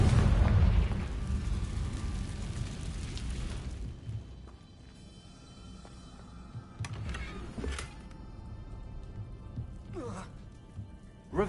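A Confringo fire curse in Hogwarts Legacy goes off as a loud rumbling blast at the start, then fades into a long roar broken by a few smaller crackles and pops.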